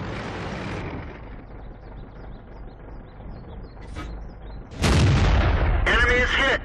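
World of Tanks battle on the Malinovka map, with a Type 62 light tank: muffled engine rumble, then a sharp loud cannon blast with a rolling boom and a second metallic hit impact close after.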